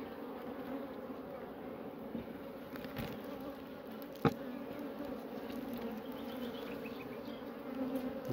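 A honey bee swarm hums in a steady, dense drone throughout, with a few faint bumps and handling noises in the background.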